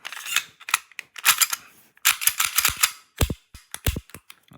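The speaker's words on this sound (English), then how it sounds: "Let's reinstall the slide." A steel slide being fitted back onto a Tokyo Marui Glock 17 Gen 3 airsoft pistol, a quick run of sharp metallic clicks and clacks in uneven bursts, close and crisp with short gaps between them.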